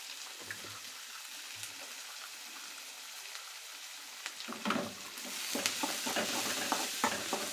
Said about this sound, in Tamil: வெங்காயம் நல்லா வதக்கிக்கலாம் ஃப்ரெண்ட்ஸ்